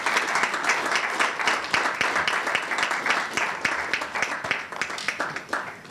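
Loud, sustained applause fills a hall at the launch of a national schools science and maths quiz championship in Ghana as a guest is welcomed to the high table, with sharp individual claps standing out.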